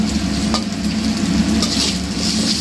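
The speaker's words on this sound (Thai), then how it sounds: "ผัดอย่างนี้เลยครับ" Marinated pork and chopped garlic stir-fried in a wok give a steady, close sizzle with soft scraping of a spatula running throughout, no voices.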